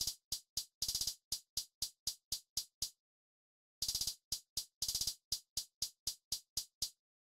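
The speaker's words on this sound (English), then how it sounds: "The hi-hat that I used for this beat with no mixing sounds like this." Dry, unmixed hi-hat sample from a GarageBand trap-style beat, ticking in quick even hits with bursts of rapid rolls, a pause of about a second, then the pattern repeats; crisp and alone.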